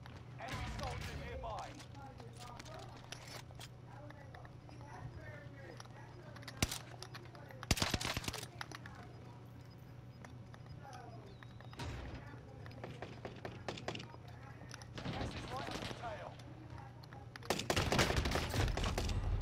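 Bursts of gunfire from an online shooter video game, scattered shots and rapid volleys spread across the clip, with a louder sustained barrage near the end under a quiet room background.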